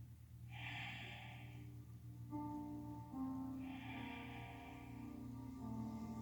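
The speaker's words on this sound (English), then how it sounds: "take 3 breaths" Slow, deep breaths during a yoga pose, two soft airy exhales spaced a few seconds apart, faint and close over a low background hum.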